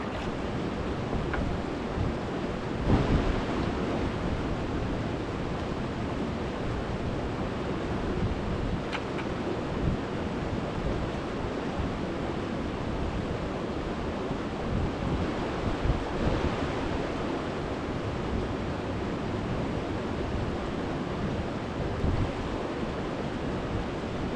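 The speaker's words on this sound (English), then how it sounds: "I don't know if you can hear me because of the river" A river rushes past a gold prospecting spot with a loud, constant broadband roar mixed with wind buffeting on the microphone and a few brief knocks, no voices.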